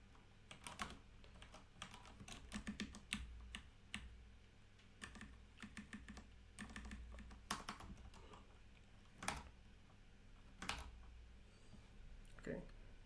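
Fingers type rapidly on a computer keyboard, close and crisp, in irregular bursts of clicks with brief pauses, and a voice talks quietly beneath the keystrokes.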